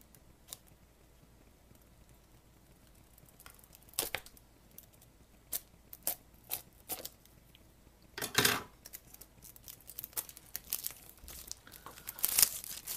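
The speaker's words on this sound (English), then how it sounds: "I'll try to get most of the unwrapping on camera." A package is unwrapped and stickers are peeled off, heard close and fairly quiet: scattered crinkles, rips and sharp tearing bursts come at irregular moments, with a louder crackling tear partway through.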